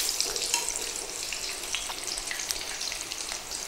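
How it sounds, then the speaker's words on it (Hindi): Chicken tender pops coated in Flamin Hot Cheetos fry in oil with a soft, continuous crackling hiss and light popping, close by and fairly quiet, with no voices. "मैक्सिमम 4 से 5 मिनट लगेंगे, ये दोनों अच्छी तरह से फ्राई हो जाएगा।"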